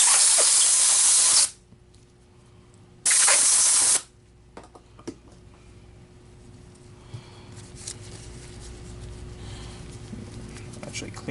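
Water sprays over the brush roller of an Electrolux Guardian Aerus Model 134 vacuum in two loud, close hissing bursts, each lasting a second or so. Quieter handling noises and low background rumble follow.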